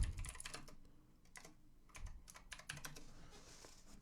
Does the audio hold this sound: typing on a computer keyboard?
yes